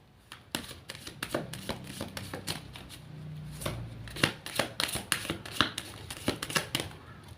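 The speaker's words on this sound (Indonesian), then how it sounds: "Saya sapu terlebih dahulu." Tarot cards being shuffled and swept on a table, a quick series of crisp riffling slaps and taps that come in uneven bursts, close and fairly quiet, with no speech.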